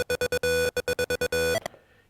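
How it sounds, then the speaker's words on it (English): A buzzy synthesizer with no effects plays a rhythmic run of short, clipped on-off notes with a couple of longer held ones, dry and loud, then stops. "what you're hearing is quite a buzzy, short on-off note"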